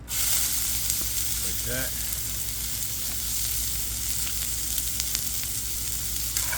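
Onions sizzle in olive oil in a saute pan, a steady close frying hiss throughout, with a brief voice speaking early and faint utensil clinks.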